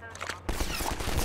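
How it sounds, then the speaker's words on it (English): Machine gun fire from the video game Half-Life 2: a quieter lead-in, then a sudden loud burst of rapid, dense automatic shots that keeps going to the end. "Oh! Machine guns! Machine guns!"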